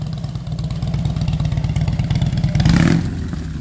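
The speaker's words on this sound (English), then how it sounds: "listen to that exhaust making all kinds of noise." A 2009 Harley-Davidson Softail Deluxe with a 96-inch engine and 6-speed runs loud and close, its exhaust throbbing in a steady lumpy idle before a brief rev swells near the end.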